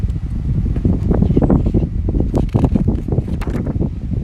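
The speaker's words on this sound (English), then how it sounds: "Oh, it's a little windy here today." Loud gusty wind buffeting the microphone, a continuous rumbling roar with irregular bursts, no voices present.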